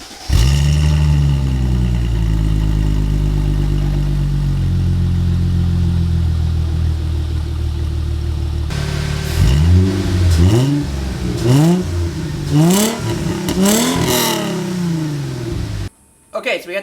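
Supercharged Mercedes SLK320 with new exhaust and intake fires up and settles into a loud steady idle, then revs in a series of sharp rising and falling blips, with a voice briefly heard near the end.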